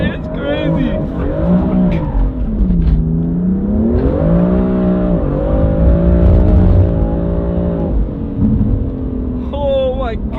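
A car in third gear accelerates hard and slides, its engine note climbing and falling in long sweeping tones with squealing tires, loud and close, while excited voices talk over it throughout.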